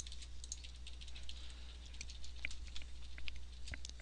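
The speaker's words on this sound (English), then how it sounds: "we'll go back to visual and we'll type in some test text" Light, quiet keystrokes patter irregularly on a computer keyboard while test text is typed into a WordPress page editor, with a steady low hum underneath and no voices.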